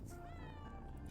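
A cat meows twice in the video game Returns Outlet Simulator, a short rising-and-falling mew followed by a second one, close and clear over a low background hum.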